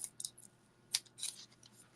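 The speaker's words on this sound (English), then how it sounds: "Maybe I should get my scissors and cut these. Cut the tops of the packs." Scissors snip open trading card packs in several quick, close, crisp cuts, sharp and short with small gaps between them, with no talking.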